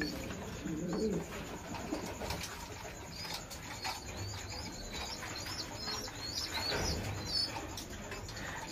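Pigeons cooing in a breeding loft in Bangladesh, soft repeated coos and scattered chirps with occasional wing flaps over a low, steady background hum.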